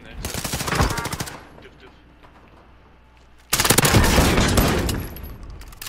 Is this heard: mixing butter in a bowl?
no